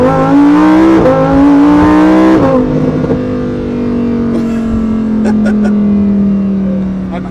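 Lamborghini Huracan STO engine revs hard and loud up close, pitch climbing steadily before a quick gear-change blip midway, then pulling on at partial throttle in a sustained roar.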